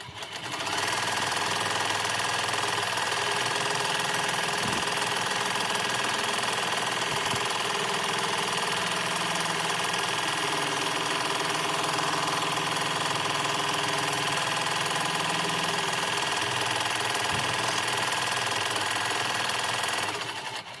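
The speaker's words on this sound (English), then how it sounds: "let's head back to the embroidery machine" An embroidery machine stitches a personalized vinyl shaker pencil tag with a steady, dense mechanical whir and rapid needle rhythm, running continuously and close up with a few faint knocks underneath.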